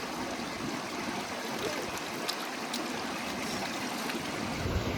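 Water splashing and trickling steadily as fish are scrubbed and washed beside a large, sea-like village tank, with a continuous broadband wash of flowing water close by and no talk.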